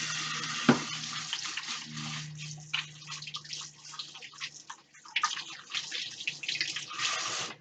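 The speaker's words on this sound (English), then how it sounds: "Wash my hands again." Hands are washed under a running kitchen tap, a steady broadband water hiss with splashing that shifts as the hands move, heard alone with no talking.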